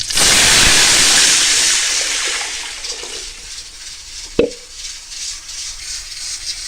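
About 1.5 liters of water gushes into a cooking pot in a loud, steady pour that fades off, followed by a single clank of metal and light sloshing.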